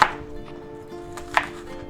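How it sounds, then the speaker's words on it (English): Onions being chopped with a knife for shrimp and roasted pork fried rice, two sharp cuts against a board about a second apart, close and crisp, over a faint background hum. "there's our onions all chopped up nice."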